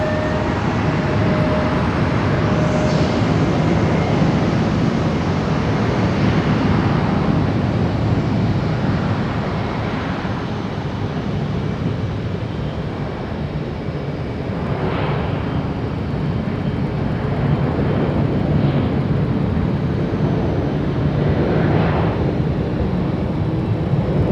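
An Alaska Airlines jet at Raleigh-Durham International Airport roars steadily and loudly for the whole stretch, a broad, continuous engine rush with no talk over it.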